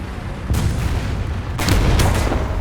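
StuG III G tank gun firing in the video game War Thunder, two loud heavy booms about a second apart with rumbling decay and engine noise between them.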